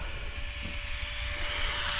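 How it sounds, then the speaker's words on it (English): A helicopter flies around over the peatland fells at Bewcastle, heard as a steady, fairly loud rotor and engine drone with a constant whine, with no talking. "That helicopter's still flying about mind."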